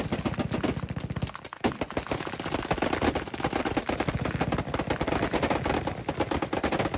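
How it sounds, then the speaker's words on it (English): Dense, rapid machine-gun fire from a minigun mounted on a Tesla shooting at ballistic dummies, loud, close and sustained with one short break near the start. "The closest of which was shredded completely in half by the minigun mounted on the Tesla."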